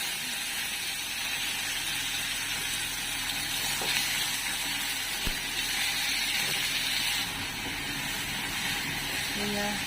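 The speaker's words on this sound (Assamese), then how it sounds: "পিয়াজ আৰু বিলাহীখিনি নহৰুখিনি ভাজি লৈছোঁ" Chopped onion, tomato and garlic with a pinch of asafoetida fry in hot oil, giving a steady, even sizzling hiss that runs unbroken for the whole stretch at moderate volume.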